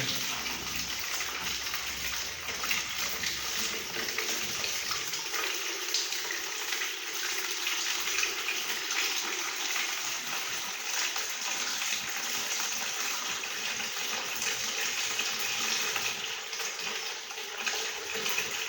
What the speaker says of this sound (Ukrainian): Прибираємо колик і вода тече.